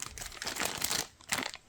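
Plastic bags wrapped around a retro Japanese game item crinkle up close in a few quick bursts of rustling, quiet and free of talk.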